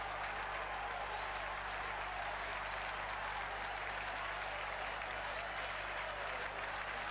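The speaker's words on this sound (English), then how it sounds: "They applaud the cross in from Heggs, and they applaud the finish from Seal" A football crowd at a Northampton Town (Cobblers) match in the 1997-98 season applauds a goal, a faint, distant, steady wash of clapping and crowd noise with a thin whistle-like tone above it.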